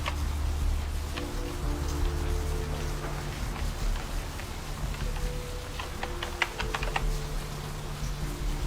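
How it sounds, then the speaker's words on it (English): Steady rainfall in a video game, a soft continuous hiss of falling drops with faint scattered ticks and clicks over a low hum of game ambience, no talking. "Oh, it's raining."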